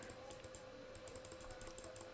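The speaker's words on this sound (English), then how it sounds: "then I press S on the keyboard." A computer keyboard clicked a few times while editing in Sony Vegas, small light taps close by in a quiet room.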